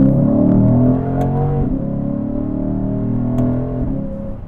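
A Lexus IS 500 F-Sport with its 8-speed transmission pulling hard from inside the cabin, a loud throaty engine note that rises in pitch, dips at a shift around the midpoint, then climbs again, with no talk.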